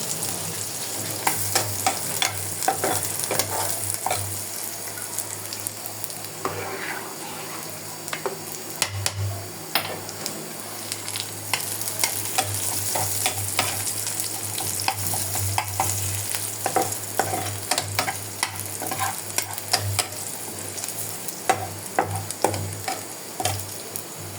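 Onions and spices frying in a pan with a steady sizzle and occasional stirring scrapes while preparing a beef rezala dish, continuous and close, with no talking.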